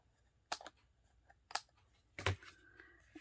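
Scissors cutting a small piece of paper while making a 4th of July card with dies, a few crisp close snips separated by short pauses in a quiet room.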